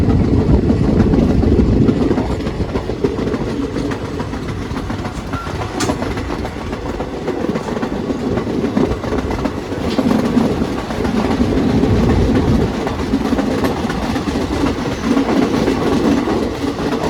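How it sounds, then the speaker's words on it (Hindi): Indian express train rolling past while crossing over onto another track, a loud, continuous rumble with rhythmic clickety-clack of wheels over rail joints, close by and sustained throughout. "कितने शानदार लगते हैं ना जब ट्रैक चेंज करती है ट्रेन"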